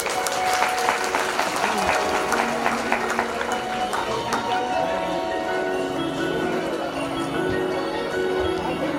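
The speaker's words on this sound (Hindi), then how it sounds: "जोरदार तालियां एक बार।" Loud, dense applause fills a religious gathering, a whole audience clapping steadily throughout without pause, with crowd noise underneath.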